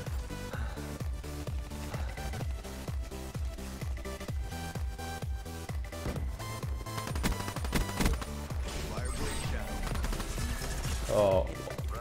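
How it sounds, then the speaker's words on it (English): Gunshots in the Call of Duty Black Ops 3 shooter come as a rapid, regular stream of loud bursts over about twelve seconds, quickening toward the end, with speech mixed in. "I'm pretty sure I was being shot from behind then"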